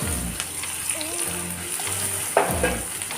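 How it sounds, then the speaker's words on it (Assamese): Chopped onions, chili and carrot frying in a pan, a loud, close sizzle with bursts as the pieces are stirred and a sharper hiss partway through, under a low background hum. "এতিয়া ইয়াতে কাটি লোৱা পিঁয়াজখিনি দি দিছোঁ, লগতে কাটি লোৱা জলকীয়া আৰু গাজৰখিনিও দি লৈছোঁ"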